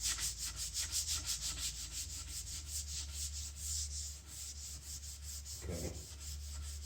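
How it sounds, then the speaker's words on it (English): Steady rubbing of sandpaper on painted wood, lifting stain while smoothing the paint, in repeated close back-and-forth strokes with a low hum underneath and no talking. "I'm seal sanding the paint where it's smooth."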